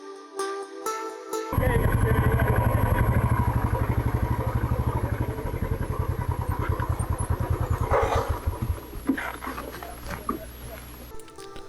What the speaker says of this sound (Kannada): super bike Riders view point ಕಡೆ ಹೋಗ್ತಿದ್ದಾರೆ